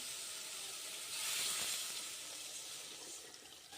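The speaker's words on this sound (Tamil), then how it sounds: "இப்போ நம்ம கரைச்சி வச்சுருக்க இந்த புளி தண்ணியை வந்து நம்ம சேர்த்துடலாம்" Tamarind water poured into a hot pan while making puli kulambu, a Tamil tamarind gravy, gives a steady bright hiss and sizzle that swells briefly near the start, then settles and carries on for several seconds.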